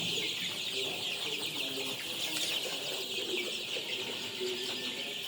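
Sick Sonali chickens in a coop give soft, steady clucks and low calls, continuous and close, over a constant background hiss.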